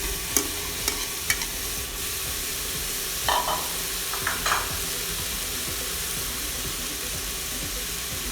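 Sliced ladyfinger (okra) sizzles and fries in a hot pan for a moonglike dal while a spoon stirs it, with a soft continuous crackle and a few light scraping clinks close by and no talking.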